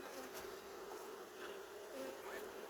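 Honey bees buzz steadily around an open hive during a spring apiary check in Melbourne, a dense, continuous drone close by with no talk over it.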